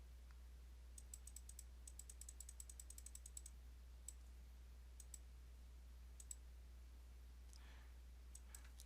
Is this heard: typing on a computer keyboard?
yes